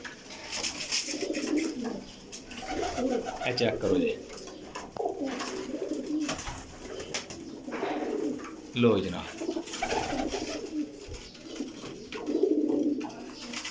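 Grey-eyed Chapra pigeons cooing in a breeder's loft, repeated soft, throaty coos rising and falling close by, with someone talking intermittently over them.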